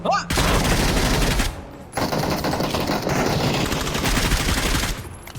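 Automatic gunfire in the battle-royale game PUBG rattles in dense, loud bursts for most of the stretch, with a short lull before a second sustained volley; no one speaks over it.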